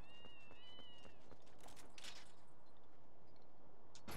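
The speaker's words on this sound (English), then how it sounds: "Oh, goodness, cats." Cats meow in Zelda: Twilight Princess, a couple of clear rising meows early on, then scattered clicks and faint game sounds at low volume.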